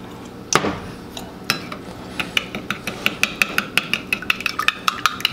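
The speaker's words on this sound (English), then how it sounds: "Mix it up." Spoon stirring cinnamon vanilla maple syrup into a bread mix in a bowl, a steady series of sharp clinks and scrapes that quicken into a regular rhythm, close and fairly loud.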